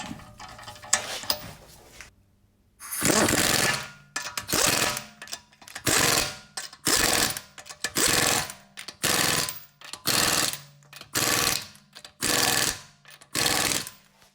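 An impact wrench hammers brake caliper bolts tight on a 2008 Infiniti G35X, loud and close, in about ten short rattling bursts with brief pauses between them, after a few seconds of quieter handling noise.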